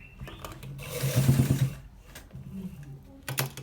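A sewing machine stitches a designer shirt in a short, whirring run of under a second, followed by a few faint mechanical clicks and knocks, with no talking.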